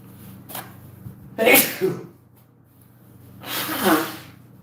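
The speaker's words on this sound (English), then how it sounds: "Sorry, everyone, I had to sneeze." One person lets out several close sneezes: a short puff first, then a sharp explosive burst with a quick follow-up, and after a pause a longer, breathy final sneeze, all near and loud against a quiet room.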